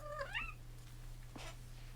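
A pet cat meows once with a short rising-falling call near the start, then only soft room noise and faint rustles follow under a steady low hum.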